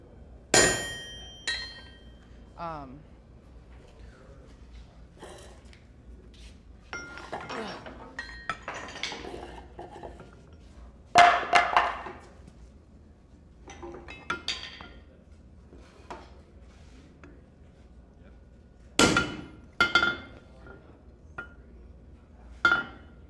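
Metal being hammered at a forge during bending work, with sharp separate clinks and clangs scattered irregularly, some in quick clusters, against a quiet background.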